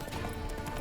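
Horse in The Witcher 3: Wild Hunt, a quick clip-clop of hooves under constant game background noise, brief and fairly close.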